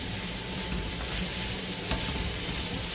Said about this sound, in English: So we're just sauteing this up